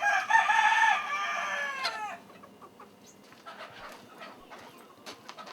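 Key West chickens and roosters: a loud, close rooster crow opens the scene, followed by softer scattered clucks and scratching noises, with no speech.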